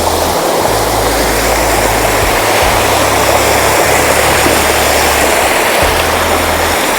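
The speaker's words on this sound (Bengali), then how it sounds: "এখানে কিন্তু জলের ফ্লোটা প্রচুরই, দেখতেই পাচ্ছ অনেক স্রোত নিয়ে বেরিয়ে যাচ্ছে" Fast-flowing stream water rushing under a small narrow bridge near a waterfall, a loud, dense, continuous roar close by with no voices.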